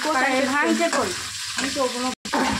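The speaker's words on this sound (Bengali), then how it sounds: "এখানে মাছের মাথা ভাজা হচ্ছে" Fish heads fry in hot oil in a home kitchen with a busy crackle and sizzle. A voice talks over it, and the sound breaks off for a moment near the end.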